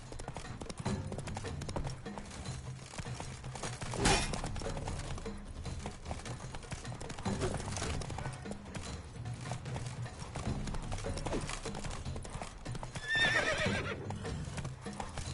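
Horse hooves in the video game The Witcher 3: steady clip-clop of galloping hooves throughout, with a whinny partway through, over a soft game background and no clear talking.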